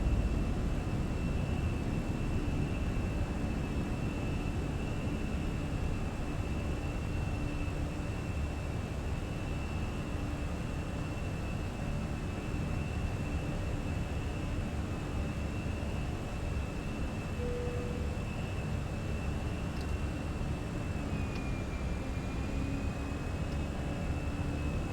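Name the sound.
aircraft rolling down runway in Microsoft Flight Simulator video game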